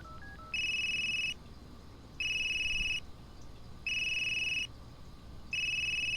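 A telephone rings in four evenly spaced electronic bursts with short pauses between them, steady and clear, with no one speaking.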